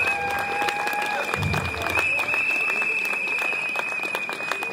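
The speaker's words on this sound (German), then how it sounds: "Die kriegen auch einen Applaus." Steady applause from a crowd at an outdoor farming and food demonstration in Münster, dense clapping holding at an even level throughout, with faint voices and a whistle-like tone mixed in.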